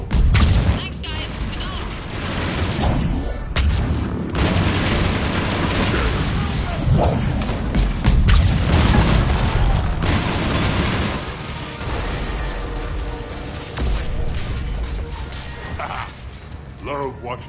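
Mechs blowing up during combat in Mass Effect 3 Legendary Edition: a dense run of loud booms and bursting blasts layered over continuous battle noise and gunfire, with players talking throughout.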